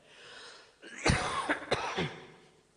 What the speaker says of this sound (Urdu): معاف کیجیے گا مجھے کھانسی نزلہ ہے